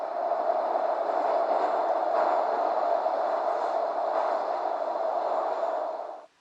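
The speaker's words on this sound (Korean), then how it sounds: "이 소리는 지하철이 덜컹덜컹 움직이는 소리입니다." A subway train rattles along in a steady, loud, close rumble with a continuous clattering hiss that holds evenly before cutting off at the end.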